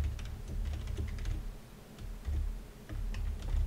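Code typed on a computer keyboard, a quick irregular patter of soft key clicks with a muffled low thump underneath, steady and close throughout with no voice over it.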